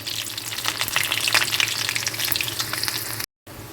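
Seeds sputter and onion fries in hot oil for a Telugu tamarind-leaf dal tempering, a loud, busy crackle of popping seeds over a continuous sizzle that cuts off abruptly near the end.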